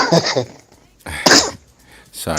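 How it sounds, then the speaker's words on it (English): Two sharp, explosive bursts, like a person coughing or sneezing, close to the microphone, separated by a short pause, with a voice starting at the end. "Sorry for this little cough."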